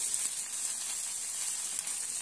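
Pav bread heating on a tawa with pav bhaji masala gives off a steady, soft, bright sizzle and hiss with faint crackles. It sounds close and continuous, with no voices.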